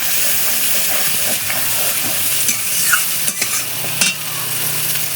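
Water is poured into a pan of frying spices in oil, and a loud, steady sizzle and hiss rises close by, with faint stirring scrapes and a few brief pops.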